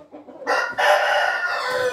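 A rooster crows once, close and loud, a harsh, drawn-out call that rises after a brief clucking start and then trails off.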